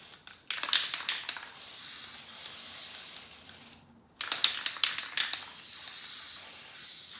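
An aerosol spray can sprays paint onto a DIY fall tree decoration in two close, steady bursts of hissing separated by a short pause, with sputtering at the start of each burst.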